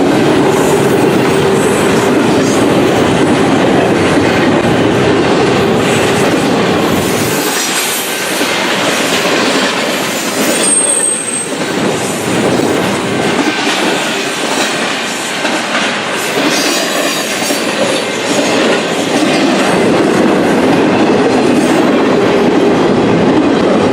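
A Union Pacific train rolls past on the Jonesboro subdivision in Arkansas, a loud continuous roar of cars with clickety-clack wheel rhythm and occasional wheel squeal, steady and close throughout.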